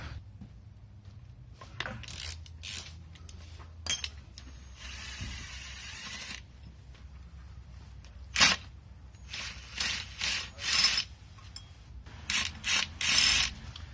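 A ratchet with a 13mm extension socket loosens bolts on a VW Passat engine during disassembly, giving bursts of quick metallic clicking between quieter pauses and rubbing handling noises, close by.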